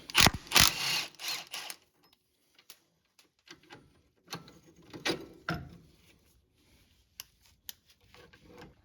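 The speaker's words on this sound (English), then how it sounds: "Now we're going to remove our bolt." A bolt is worked loose from the steering linkage of a Polaris Ranger 800 XP, heard as close metallic ratcheting and clicking bursts with quiet gaps between them.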